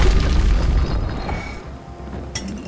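A grenade explosion in the video game Bastion lands as a deep, loud boom at the very start, then rumbles and fades away over a couple of seconds, with a small sharp pop near the end.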